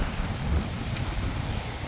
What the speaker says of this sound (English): It is very windy, very weathery today.